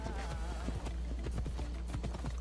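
Horse hooves gallop in Assassin's Creed Odyssey, a fast, steady clip-clop rhythm running throughout, fairly close, over a low game ambience with no speech.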